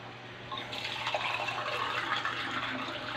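Water is poured from a container into a pot of simmering ground pork stew, a steady splashing stream that starts abruptly and continues close by for a few seconds with no talking.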